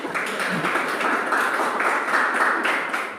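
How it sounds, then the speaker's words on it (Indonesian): Audience clapping in a classroom session after a student group's presentation, a dense continuous wash of many hands at steady loudness throughout, with no distinct voices. "Tepuk tangan."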